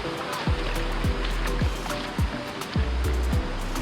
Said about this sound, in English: the water's quite fast